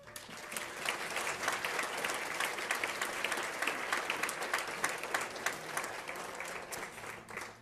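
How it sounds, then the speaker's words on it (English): Sustained applause from an indoor audience at an annual celebration gala, dense and even clapping throughout with no break, moderately distant. "show your appreciation for these wonderful leaders with your applause"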